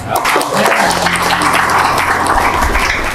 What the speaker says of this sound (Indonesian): Orang tepuk tangan